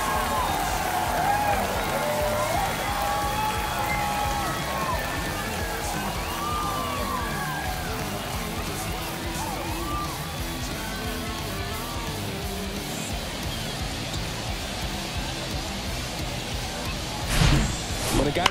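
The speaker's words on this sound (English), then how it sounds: "And they cut into the lead. It's 5-4. This crowd back alive." A virtual baseball stadium crowd in MLB The Show 23 roars steadily after a home run, with whistles and shouts over a dense wash of cheering and a brief louder swell near the end.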